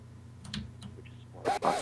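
Dog barking a couple of short, sharp yips at moderate distance, with a low hum and faint sounds in between.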